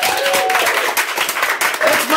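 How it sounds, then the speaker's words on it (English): An audience at an improv comedy show claps for a performer, a dense, close wash of applause with brief dips, and a voice talking over it. "Clap for Bill."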